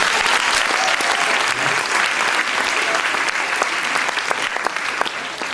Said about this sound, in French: c'est pour ça qu'ils applaudissent